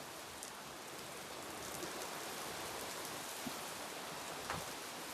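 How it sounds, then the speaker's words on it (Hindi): Heavy monsoon rain falls in a dense, steady hiss, with occasional distinct drops and patters standing out over the constant wash. "एकदम खतरनाक बारिश है।"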